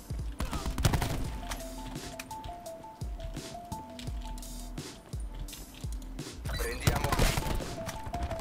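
Rapid bursts of automatic gunfire from a Call of Duty Black Ops 4 match, with repeated loud shots and scattered single cracks, a voice talking over part of the firing.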